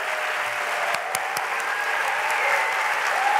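Audience applause for National Book Award finalists at a reading event, steady dense clapping from a large seated crowd, with a few sharper nearby claps standing out and the sound swelling slightly toward the end.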